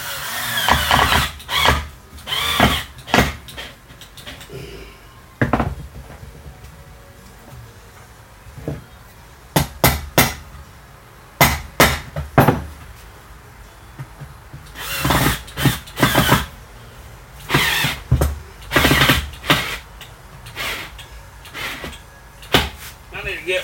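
A power drill drives small screws into new wood while repairing a boat seat, heard as repeated short bursts of whirring with pauses between, close and fairly loud, with someone talking in between.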